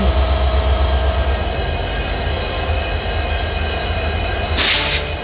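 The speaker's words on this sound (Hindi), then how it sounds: "तो ये आ गए हमारी ट्रेन के ब्रेकर्स।" Banker locomotives arrive at a train on the Braganza Ghat descent in heavy rain, a steady loud rumbling diesel drone with rail noise throughout and a brief hissing burst near the end.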